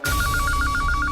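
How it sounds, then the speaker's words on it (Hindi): A telephone rings loudly in an indoor drama scene, a rapid trilling electronic bell pulsing about ten times in steady rhythm over a low background murmur. "किसका फोन है?"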